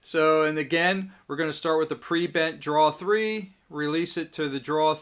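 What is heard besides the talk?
No everyday noise stands out behind the speech.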